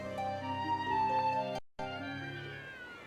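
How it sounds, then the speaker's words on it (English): Several cats meowing in the video game Bravely Second, a cluster of overlapping tonal meows with a short gap before more cries, moderately loud over background game music. "Wow, look at all these cats."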